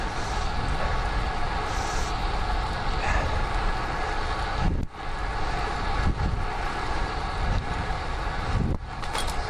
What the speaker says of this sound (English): of just how loud it is on the road with cars and trucks and things.